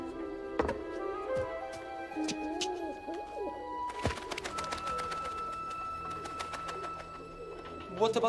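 Pigeons coo steadily in a cage at a desert market, with clanking thunks and busy crowd noise and background music running underneath.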